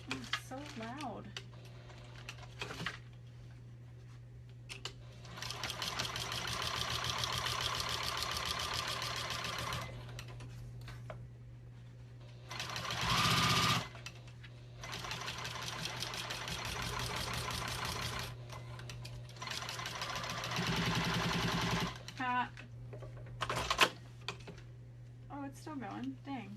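Juki 2000 QI sewing machine stitching vinyl, a loud rapid whirring run in several long bursts separated by pauses, with a steady background hum and brief speech between bursts.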